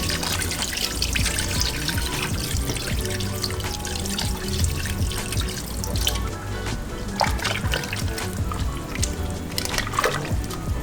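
Water pouring into a pot of goat meat pepper soup with Irish potatoes and carrots, a continuous splashing trickle that stays loud and close throughout, with no talking.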